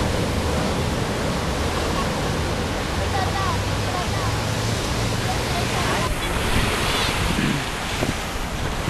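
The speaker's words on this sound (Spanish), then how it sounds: "ya estamos en la playa" Waves washing on a beach, a steady loud surf roar mixed with wind buffeting the microphone, with faint voices in the background.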